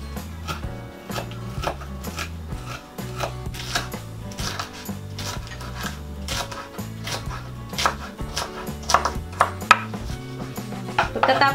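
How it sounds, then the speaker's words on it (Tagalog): Knife chopping food into small pieces on a cutting board, a steady run of sharp, close, rhythmic taps that quicken toward the end, with no talk. "pwede na nating simulang hiwain ng maliliit."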